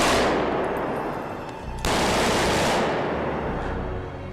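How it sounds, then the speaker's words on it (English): Gunfire from the Batman: Arkham City video game, a dense, loud burst of rapid shots with noisy street-echo reflections, broken by a brief dip before a second sustained burst that slowly decays. "If you imagine a gun firing in a street"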